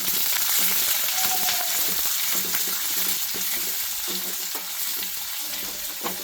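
Sliced onion and two green chillies frying in oil in a pan, a steady close sizzle and crackle with faint stirring scrapes throughout, no talking.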